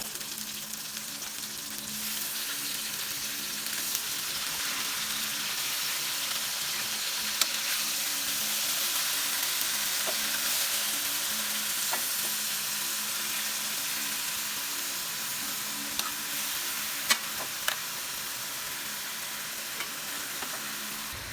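A marinated pork chop cooks in a pan with softened onions for Filipino pork steak (bistek), giving a steady, moderately quiet sizzle with occasional small pops and crackles, no voices.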